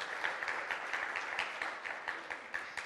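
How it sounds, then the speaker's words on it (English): Church congregation applauding Miss Jan, an even, moderately quiet spread of many hands clapping with small rhythmic swells, lasting the whole moment with no talk. "Can we give Miss Jan a round of applause for being an adult to help with that?"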